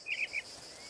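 Cicadas chirp outdoors in a mountain setting, a few bright, short buzzing bursts close together near the start over a faint, steady high insect drone, with no voices.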